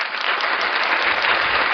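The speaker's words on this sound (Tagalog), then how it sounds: "Yung pinakamalakas, talagang malakas sa palakpak" Loud, dense applause from an audience at a live religious program, sustained and even without pause, with no voices standing out above the clapping.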